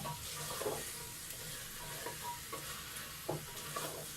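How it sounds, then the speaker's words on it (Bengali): Spices and beef frying together in a pan over medium heat for a pumpkin beef bhuna, a soft continuous sizzle broken by repeated scraping stirs. "যতক্ষণ না মশলাটা কষাচ্ছে ততক্ষণ পর্যন্ত নেড়ে যেতে হবে"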